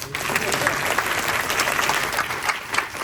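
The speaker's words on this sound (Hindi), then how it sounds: "जोर से ताली मारिए ना" An audience at a public address by a state governor applauds loudly, dense clapping sustained across the whole moment with faint crowd voices underneath.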